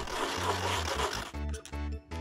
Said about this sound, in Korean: 톱으로 잘린 면은 굉장히 거친데요. 사포로 살짝 다듬어 줍니다.